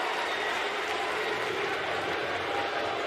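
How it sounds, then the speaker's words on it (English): A packed basketball arena crowd at an NBA playoff game between the Memphis Grizzlies and Utah Jazz roars and cheers in a dense, continuous wall of noise, with no single voice standing out. "But this crowd, it's electric."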